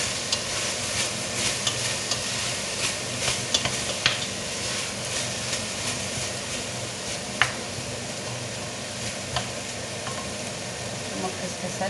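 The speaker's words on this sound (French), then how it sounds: "je vais les faire revenir également avec la viande" Onions and veal frying in a pan for a blanquette de veau, a steady close sizzle with occasional stirring scrapes and clicks running through.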